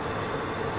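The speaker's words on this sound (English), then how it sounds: "Not sure what I think of the train." A train rumbles steadily past a campsite at Ohiopyle State Park, a continuous broadband roar with a faint high whine, heard from a moderate distance for under a second.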